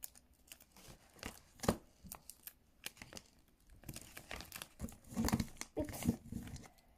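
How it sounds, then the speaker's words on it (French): Scissors cutting tracing paper around a paper flower for a craft project: faint, close snips and crinkling rustles in irregular bursts, growing busier toward the end. "on va découper ce qui déborde."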